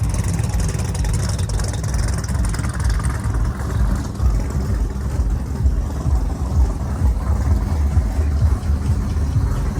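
A supercharged box-body Ford Mustang burnout car runs loud and close, its heavy low engine rumble steady and unbroken throughout, with a busy show-floor backdrop at SEMA.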